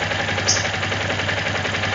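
A Yamaha Ténéré motorcycle engine idles with a persistent knocking: fast, even, rhythmic ticking under a steady mechanical hum, close and fairly loud.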